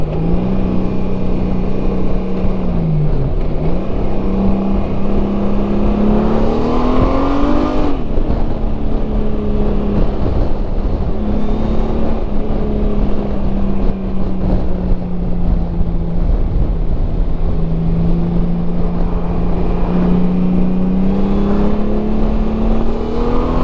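A 2021 Honda Goldwing DCT motorcycle cruises with a loud, continuous engine drone mixed with wind rush, its pitch easing up and down with speed throughout.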